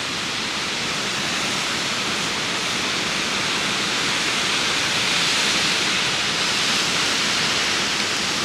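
Wadden Falls, a waterfall near Bryan Creek, roars in a steady, broadband rush of falling water, loud and close, unbroken for the whole stretch like ocean surf.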